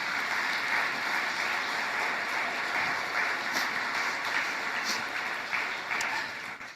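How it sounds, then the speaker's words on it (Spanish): A church congregation applauds during a sermon, producing a fairly faint but continuous patter of many hands clapping, with a few louder individual claps standing out. "Denle el aplauso fuerte a nuestro Dios."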